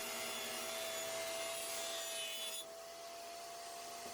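A table saw rips a bevel off the corner of a wooden board. The blade whines loud and steady with a continuous cutting hiss, then eases as the cut finishes and the blade keeps spinning.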